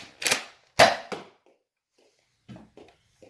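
A Nerf Rival Takedown XX-800 blaster fires in sharp, loud pops, two strong shots followed by a lighter snap, close by, with faint soft clicks after a pause.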